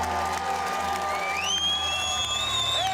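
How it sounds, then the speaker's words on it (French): A crowd claps and cheers at a community gathering in Belgium, with steady applause and rising whistles and whoops over the top. "c'est pas vous qui devriez nous applaudir, c'est nous qui vous applaudissons"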